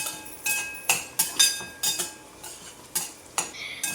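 Onions stirred and sautéed in a pan over a low flame, with a utensil scraping and clinking against the pan in a steady rhythm of about eight sharp strokes over a faint sizzle, close by and with no talk.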